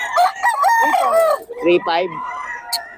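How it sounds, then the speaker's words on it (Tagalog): A rooster crows loudly up close, followed by clucking chickens and another brief crow, with a busy farmyard flock in the background. "Maraming manok to."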